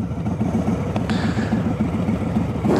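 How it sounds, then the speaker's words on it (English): A motorcycle with the baffles removed from its exhaust gives a loud, rough, throbbing engine note that stays steady throughout, heard up close while riding. "he took the baffles out of his exhaust, which sounds a lot meaner now"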